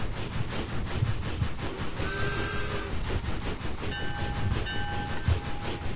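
Train rolling along a railroad track in the video game Ark Survival, a steady rumbling clatter with bursts of tonal whistle-like sound partway through, continuous and fairly loud with no talking.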